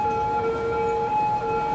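Wailing ambulance sirens in the city-building game Cities Skylines, several vehicles sounding at once as steady overlapping tones that hold loud and continuous through the whole stretch, with no talk.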